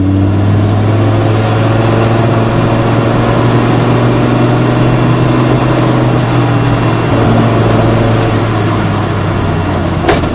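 Audi S2 race car with a standard turbo warming up, a loud steady idle drone with a deep even hum that holds constant throughout, close up, with faint clicks and no talking.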